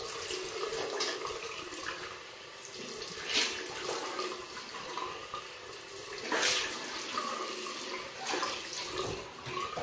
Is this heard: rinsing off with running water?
yes